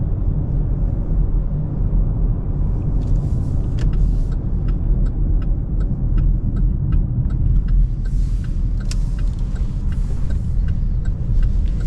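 Interior drive in a 2026 Chevy Blazer Turbo: a steady low road rumble and engine drone runs throughout, with faint regular ticking clicks over it and no talking.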